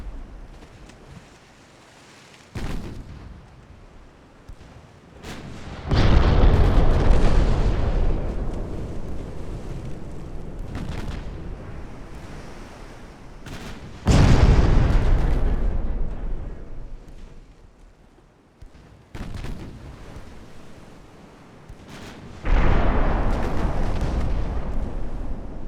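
Warship 6-inch guns firing with shells exploding in the naval game Ultimate Admiral Dreadnoughts, several heavy booming salvos spaced seconds apart, each a loud sudden blast that rumbles and fades, with a steady wash of sea and wind between them.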